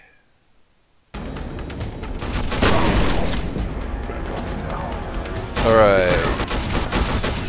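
Gunfire bursts from the first-person shooter F.E.A.R. Perseus Mandate, loud and sustained after a brief silence, with a swelling metallic whine near the end, while a player talks over the combat.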